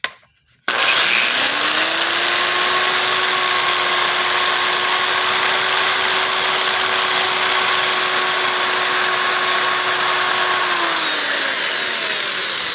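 An electric die grinder with a stone bit porting an E7 cylinder head, a loud continuous high whine that spins up, holds steady for about ten seconds, then winds down.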